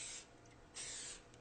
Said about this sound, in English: for the plastic tray I'm going to spray it with the nonstick cooking spray